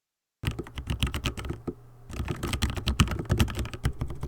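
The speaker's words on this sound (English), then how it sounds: "You're Typing very loud." Rapid typing on a computer keyboard, a close, steady patter of clicking keystrokes with a brief pause midway before the tapping resumes, no speech.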